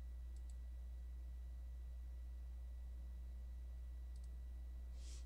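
A computer mouse button gives two faint, quick double clicks a few seconds apart while someone works in PowerPoint. The clicks sit over a quiet, steady electrical hum.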